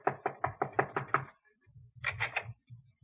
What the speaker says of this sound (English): he is tapping a bit nervously at the door of Miss Jessup's apartment